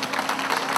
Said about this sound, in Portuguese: palmas para as meninas